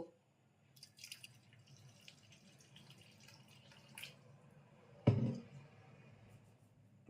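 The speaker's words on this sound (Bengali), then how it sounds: "জল দেব" Water poured into mung lentil batter for pumpkin flower fritters, a soft dripping splash around five seconds in over faint background noise, alone with no talk.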